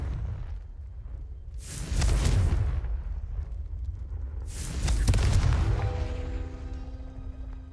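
Two Confringo blasting-spell explosions go off in Hogwarts Legacy, each a loud burst with a deep boom and broad crackling wash that decays over about a second, spaced roughly three seconds apart, followed by a faint ringing tone.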